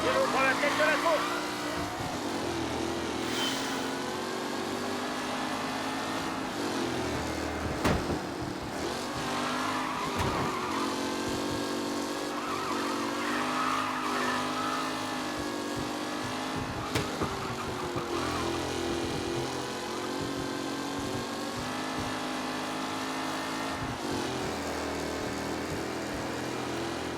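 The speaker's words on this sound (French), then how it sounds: "Tommy Angelo prend la tête de la course." Race cars roar and rev continuously in the Mafia video game, engines whining up and down with occasional skids and impacts, loud throughout with someone commentating over them.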